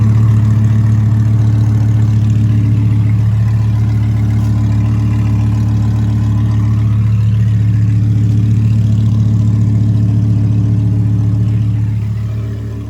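An Audi R8 5.2 V10 engine idles steadily with a deep, even exhaust rumble, loud and close, holding for several seconds before easing slightly.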